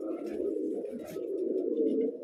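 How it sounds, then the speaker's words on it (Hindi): A pigeon, one of a keeper's prized birds in Bijnor, Uttar Pradesh, coos in a steady low throaty murmur throughout, close to the mic, with faint higher chirps above. "एक कबूतर ये है।"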